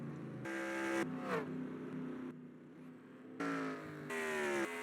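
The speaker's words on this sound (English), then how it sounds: "Couple cars coming down pit road again." Race cars drive down pit road, engines holding a steady whining tone that rises and shifts as each car goes by, loud and continuous with no talk.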